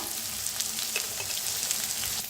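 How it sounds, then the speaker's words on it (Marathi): Ground coriander, turmeric and red chili roast with dingri mushrooms in a hot pan, giving a steady close sizzle and crackle with faint stirring scrapes. "आता चांगलं भाजून घेऊया."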